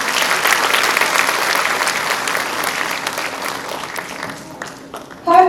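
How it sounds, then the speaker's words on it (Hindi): Audience applause at a school patriotic programme after a children's performance, a dense steady clapping that carries for several seconds, then thins and fades toward the end. "एक बार फिर से तालियां बजाएं।"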